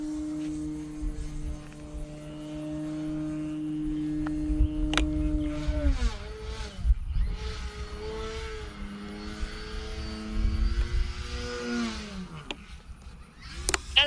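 A 3D RC plane's propeller whirs steadily in flight, its tone sliding down and then back up as the throttle changes, moderately loud throughout.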